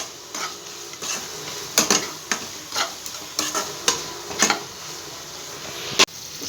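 Soya chunks and onions fry in a pan, a steady sizzle broken by repeated sharp scrapes and clacks of a spoon stirring against the metal, with one louder knock near the end.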